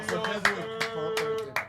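An audience claps at a players association event; a short burst of scattered, sharp handclaps, fairly close, with a faint voice in the background.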